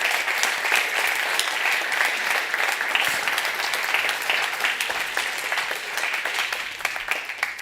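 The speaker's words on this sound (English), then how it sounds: "one more round of applause for the runner-up" Sustained applause from a conference audience honouring a runner-up at an award presentation, a dense steady wash of many hands clapping, loud and continuous throughout with no speech over it.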